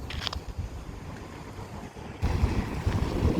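Gusty wind buffets the microphone along abandoned railroad tracks with low rumbling roars that surge louder partway through.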